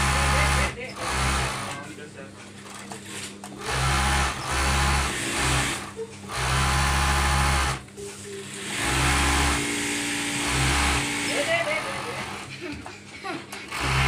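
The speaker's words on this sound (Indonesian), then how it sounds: "Tinggal diobras aja pinggirannya." An overlock sewing machine runs in loud rhythmic bursts, stitching the edges of a fabric cover for a refrigerator, with someone talking between and over the runs.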